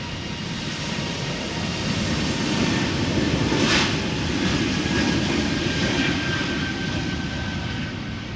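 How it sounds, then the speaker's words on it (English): An Air Baltic Airbus A220 jet passes at Amsterdam Schiphol Airport, a steady broad engine roar that swells slightly midway, heard fairly close with no talk. "Air Baltic Flight 858, Airbus A220 going to Tallinn."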